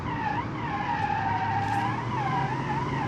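A powerful car in the BeamNG.drive driving game braking hard, its tyres letting out a continuous wavering skid squeal that holds loud and steady throughout, with no talking.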